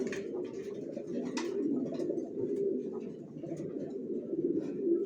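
Johnson racing pigeons coo steadily at close range in a low, continuous murmur, with a few faint higher chirps over the top.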